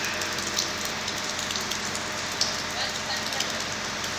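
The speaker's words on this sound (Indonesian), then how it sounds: "Ini sekarang lagi disemprot, guys. Lagi dibersihin, guys. Disemprot semua." A water sprayer washes dust off the walls of a white house, making a continuous close hiss of spray with small spatters and drips throughout.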